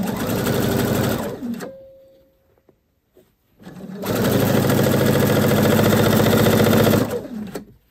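A sewing machine runs loud and close in two long bursts, stitching across three layers of a shirt's double yoke, with a quiet pause between the runs.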